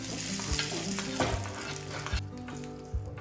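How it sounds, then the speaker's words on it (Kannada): Mustard seeds and curry leaves sizzling in hot oil for a tempering, a loud close crackle with stirring and a few soft knocks of utensil on pan, fading slightly toward the end, no speech. "ಸಾಸಿವೆ ಮತ್ತು ಕರಿಬೇವಿನ ಒಗ್ಗರಣೆ ಹಾಕಬೇಕು."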